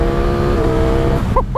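Ducati Streetfighter V4 SP motorcycle engine held at a steady, loud drone with rising harmonics, then brief blips as gears shift near the end, close and alone.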